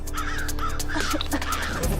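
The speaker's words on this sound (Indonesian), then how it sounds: "Banyak burung gagak ya." Several crows caw repeatedly, some near and some farther off, over a steady background hum, with no talking.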